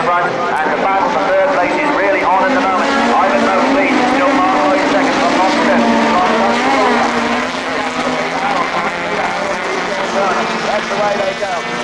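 Rallycross cars, among them an ex-Group B Ford RS200 E2 of 750 hp, roar away together from the start at Lydden Hill, engines rising in a loud sustained blare beneath an excited race commentator talking throughout.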